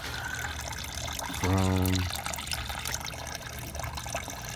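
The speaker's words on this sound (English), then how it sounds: "we're draining coolant" Coolant draining from a 2015-2019 Hyundai Sonata 2.0T engine during engine removal, a brief, fairly loud burst of gurgling liquid pouring for about half a second, then a quieter trickle amid workshop noise.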